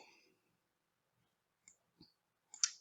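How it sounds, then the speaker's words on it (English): Mouse clicks while a Canvas quiz is set up on a computer: a few short, faint clicks spaced apart in an otherwise quiet room, with a brief murmur at the start. "I'm going to click on my quiz"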